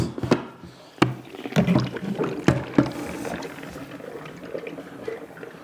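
A clear ice block scrapes and knocks as it slides loose from its mold, with a few sharp clunks followed by a softer rumbling slide, fairly close.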